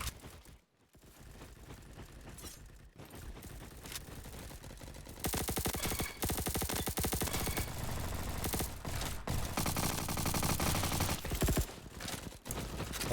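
Rapid automatic Evo weapon fire crackles almost continuously in the Roblox shooter Bad Business, growing louder partway through as a dense, unbroken stream of shots with faint mechanical clatter.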